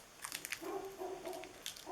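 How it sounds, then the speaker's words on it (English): A pet dog barks and yips in quick bursts indoors, faint and somewhat distant, a short string of sharp barks with a whimpering tone. "Sorry, my dog, she's barking."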